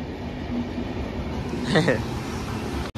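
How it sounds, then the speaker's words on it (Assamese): A train rumbles steadily nearby, a broad continuous roar with a brief voice cutting in partway through. "আৰু ইফালে ট্ৰেন"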